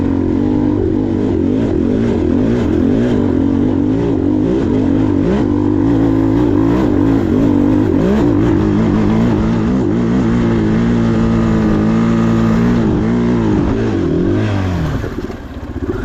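A 2023 KTM 500 EXC-F motorcycle with a Graves exhaust revs and accelerates hard through the gears, its loud close engine note rising and falling repeatedly for the whole stretch before easing off near the end.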